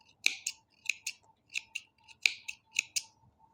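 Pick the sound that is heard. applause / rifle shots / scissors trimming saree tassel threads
scissors trimming saree tassel threads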